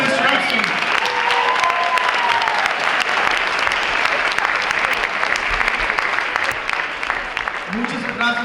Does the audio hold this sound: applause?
yes